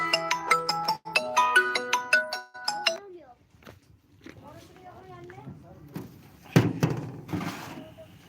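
A phone ringtone of an incoming call plays a bright, repeating electronic melody for a few seconds, then stops; people talk afterward amid soft thumps and a sharp clatter, in a garden setting.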